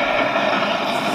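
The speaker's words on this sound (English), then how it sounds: "A big, fast engine was racing through Sodor, and the engines were getting shocked as it ran past." A big, fast steam engine races past on a railway, a loud, sustained roaring rush of sound filling the whole moment with no pause or speech.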